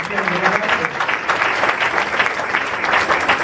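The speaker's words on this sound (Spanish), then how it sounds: "denle el aplauso al Señor" A church congregation applauds together, a continuous round of clapping from many hands with some voices audible underneath.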